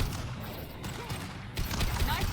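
Gunfire in Mass Effect 2 comes in rapid bursts of shots mixed with impacts and combat noise, dense and fairly loud, with voices speaking over it.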